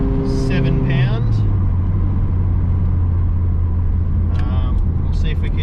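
A turbocharged Honda engine runs under about 7 psi of boost, its tone dropping briefly before settling into a loud, constant in-car drone with road rumble while people talk over it.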